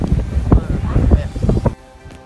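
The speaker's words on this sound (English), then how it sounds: "It's very windy, extremely cold" Gusty wind buffets the microphone in rough, uneven bursts for about two seconds, then drops away abruptly, outdoors at night in extreme cold.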